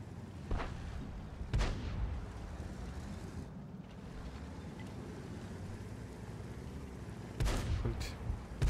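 Tank gunfire in the World of Tanks video game: a few heavy booming shots at irregular intervals stand out over a constant rumbling background of engine and wind.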